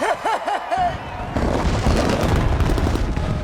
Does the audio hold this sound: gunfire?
yes